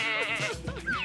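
A goat bleats in a wavering, nasal cry lasting about a second, close and fairly loud, with no other sounds around it.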